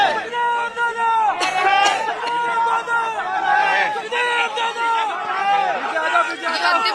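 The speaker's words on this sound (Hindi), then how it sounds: "सुखदेव सिंह अमर रहे के नारे यहाँ पर सुनाई दे रहे हैं" A large crowd at Sukhdev Singh Gogamedi's last rites shouts slogans in loud, overlapping rhythmic chants, many voices rising and falling together close by.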